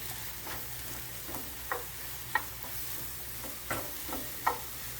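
Mushrooms seasoned with salt and pepper cooking in a pan, a low steady sizzle broken by several distinct spatula scrapes and taps at irregular intervals.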